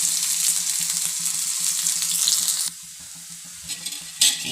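Shallots and dried red chillies sizzle loudly in hot oil for a tempering, a dense close-up crackle that drops off suddenly and then flares briefly again near the end.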